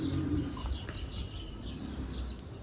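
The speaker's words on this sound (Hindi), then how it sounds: "कबूतर अपना दाना चुग रहे हैं।" Pigeons on a farm coo softly while pecking at grain, low throaty calls near the start over a faint bed of chirps and rustling, with no talk.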